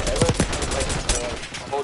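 Rapid automatic gunfire in Call of Duty Black Ops 6 multiplayer, with close, loud bursts of shots mixed with other game sounds and a player talking over it.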